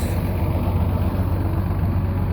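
A Rowse sidekick tractor idles after a day of hay work, its engine giving a steady, low, continuous rumble that stays close and even throughout, with no talking over it.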